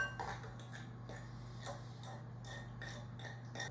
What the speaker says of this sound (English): stir the butter and brown sugar together until it's about the consistency of wet sand